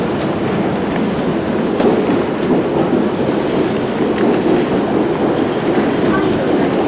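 London Underground Piccadilly line train running fast toward Acton Town, a steady loud interior roar of wheels and motors with rumbling low-end and rattling, continuous throughout.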